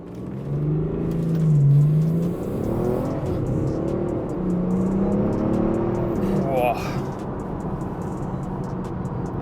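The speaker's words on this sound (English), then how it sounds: "Right, so I'm going to try and launch this now." BMW 335d with the N57 diesel pulls away hard in sport mode, its engine note rising in a steady surge heard from inside the car, with someone talking over the moderate rumble and a brief gear change near the end.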